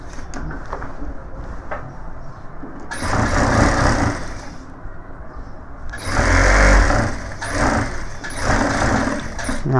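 A sewing machine stitches a pocket on a gents' suit, a close whirring motor hum that rises in several sustained runs and dips in between.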